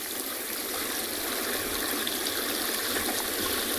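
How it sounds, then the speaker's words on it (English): Water pours continuously over small mini waterfalls at Chitwa Dam in a South African game reserve, a steady, close, full rushing wash with no break and no voices. "the sound of that water, the mini waterfalls of Chitwa Dam"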